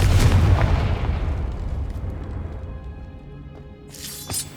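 A Confringo spell blasting in Hogwarts Legacy, a loud booming explosion with a crackling, shattering burst that decays over a few seconds, followed by a smaller sharp pop near the end.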